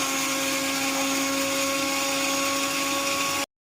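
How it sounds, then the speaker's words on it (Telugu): A kitchen mixie grinds toor dal, dried red chillies, cumin and salt into a fine powder, a loud steady whirring drone with a constant pitch that runs unbroken and then cuts off abruptly at the end. "ఇప్పుడు మిక్సీ పట్టుకుందాం."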